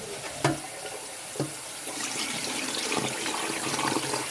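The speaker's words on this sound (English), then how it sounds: "until I get that dirty, starchy water out. Kind of mix it around with your hand" Uncooked rice rinsed and swirled by hand in water to wash out the starch, a steady close splashing and sloshing with a few sharper knocks early on and no talking.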